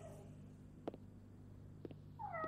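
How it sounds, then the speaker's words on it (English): A cat meows in the Life Is Strange Double Exposure video game, a short rising-and-falling meow at the end following a couple of soft clicks over a quiet, steady background hum. "Time to greet our furry friend. I hope the cat's okay."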